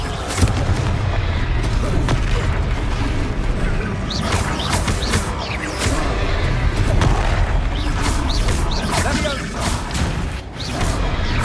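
Confringo blasting-spell explosions in the Hogwarts Legacy video game, heavy repeated booms and crashes with whooshing magic bursts, loud and dense throughout while a voice shouts over the combat.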